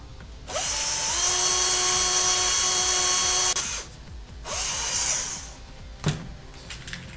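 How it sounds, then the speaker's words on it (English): A small power drill whirs steadily for about three seconds drilling down the centre of a Nerf foam dart, stops, then runs again in a shorter burst, close by, followed by a light click. "we take a standard Nerf dart and we drill down the centre of it"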